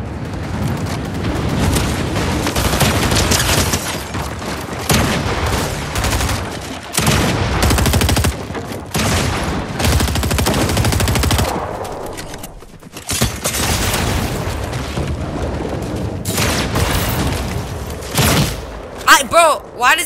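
Sustained rapid gunfire and explosive booms from a Fortnite match, loud and dense with a brief lull midway, with a shotgun among the weapons.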